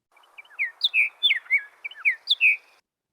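A recorded songbird sings a short, bright phrase of quick chirping whistled notes that ends on a longer, burry note, heard close and clear against a quiet background.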